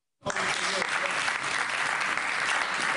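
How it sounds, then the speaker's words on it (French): A church congregation breaks into sustained applause that starts abruptly and stays dense and steady, a broad wash of many hands clapping together. "On l'applaudit encore."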